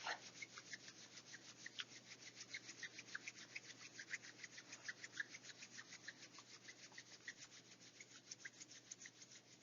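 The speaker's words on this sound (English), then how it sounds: "we'll just warm up our hands a little bit by rubbing them together, listening to the sound" Two palms rub briskly together during a gentle yoga session, making a steady, fast rhythmic swishing that continues close and alone for nearly ten seconds.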